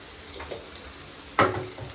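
Masala frying in a pan gives a faint, steady sizzle, with one sharper scrape or stir partway through.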